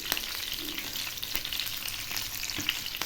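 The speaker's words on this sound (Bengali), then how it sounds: "এই মাছটা আমি একদম লো আঁচে ভাজবো।" Pomfret fish frying in oil over low heat, with a soft, continuous sizzle and fine crackling close by, broken by a few light pops, at a fairly quiet level throughout.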